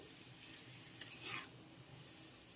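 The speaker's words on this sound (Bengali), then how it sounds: "এখন খুব ভালো করে নেড়েচেড়ে একটু মিশিয়ে নিচ্ছি" Masala Maggi noodles being stirred and mixed in a pan: two quick light utensil clicks, then one brief soft scraping swish over a faint steady background hiss, fairly quiet and close, with no talking.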